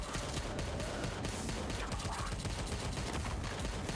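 Rapid Tommy gun fire in a co-op action game, a steady, dense rattle of automatic shots mixed with other combat noise, moderately faint and continuous throughout.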